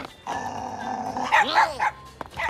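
A cartoon dog barks and growls in a French animated series, a sustained tonal growl-whine followed by several sharp, loud yips and barks close up, with no talking.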